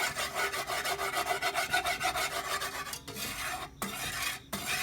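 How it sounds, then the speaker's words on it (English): A spoon steadily stirs and scrapes a dry roux in a very hot pot on a stove, making rhythmic raspy rubbing strokes, close and continuous with a couple of brief pauses. "So you have to be very consistent and just stir and stir and stir and stir."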